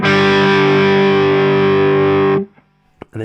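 Heavily distorted electric guitar chugs a sustained chord from a riff, loud and close, ringing steadily for over two seconds before it is cut off and followed by a few faint clicks.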